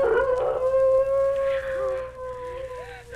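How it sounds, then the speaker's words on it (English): A wolf howls in a 1963 Halloween ghost-story record, one long sustained wavering howl with rising and falling pitch, fairly near and clear over a faint background. "If what made those footprints is doing that howling, then it must be a wolf."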